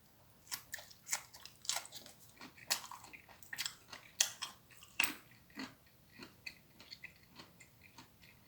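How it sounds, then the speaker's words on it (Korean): Thorny tree shoots dipped in sweet chogochujang sauce are eaten close up, with crisp crunchy bites and rhythmic chewing at a steady pace, quiet and alone. "초장을 찍어서 먹어보겠습니다"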